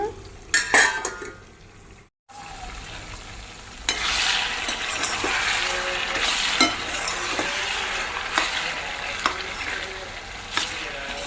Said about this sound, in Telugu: పప్పు మెంతాకు తాలింపు పెట్టేసుకున్నాను.